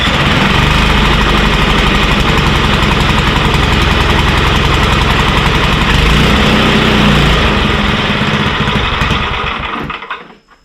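An old 1980s Toro 524 snow blower engine, started electrically, runs loudly and close with a rough, steady chugging for about nine seconds before dying away and stopping.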